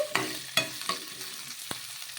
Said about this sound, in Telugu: కారానికి తగ్గట్టు పచ్చిమిర్చి కూడా వేసుకొని ఒకసారి బాగా కలిపేసుకుందాము